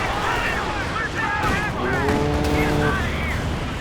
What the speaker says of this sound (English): Panzerwerfer firing